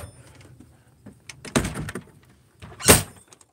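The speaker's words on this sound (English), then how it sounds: "I gotta pull my door shut." A car door is pulled shut from inside on a cold day, landing as one loud close thunk after an earlier softer clunk, with faint handling noises around it.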